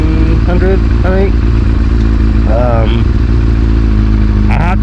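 A carbureted motorcycle idles on a cold start with the choke set halfway, a steady low rumble running loud throughout while someone talks over it.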